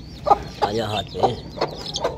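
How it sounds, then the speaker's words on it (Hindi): A small chick held in the hand gives a series of short, bright cheeps in an irregular rhythm, close and fairly loud, with a little background noise. "ये देखें दोस्तों, एक चूजे को पकड़ा है मैंने,"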